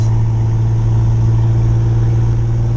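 A Ford Ranger engine running rich and unable to idle properly gives a loud, steady low drone that stays close and constant throughout, with no talk.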